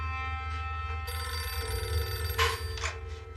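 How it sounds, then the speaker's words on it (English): A telephone rings alone with a steady electronic bell tone that grows fuller partway through, moderately loud indoors with no talking. "the phone rang."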